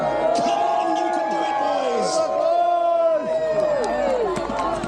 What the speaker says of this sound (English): Cheer the half-guard protecting King Harold.